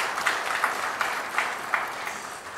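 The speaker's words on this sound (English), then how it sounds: "show me a clapping hand" Applause from an audience at a welcome ceremony for the Prime Minister of Timor-Leste, a dense steady wash of clapping heard throughout.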